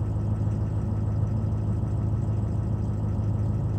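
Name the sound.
engine running after a cold start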